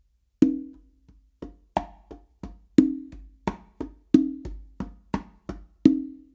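Modern funk rhythm on two congas: a steady pattern of crisp slaps and ringing open tones, about two strokes per second with accented hits, played close and alone without talk.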